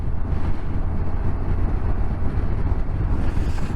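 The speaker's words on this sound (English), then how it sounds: "Getting a bit blustery along here." Blustery wind buffets the microphone outdoors, a constant loud low rumble and roar that fills the whole stretch without a break, with no talking.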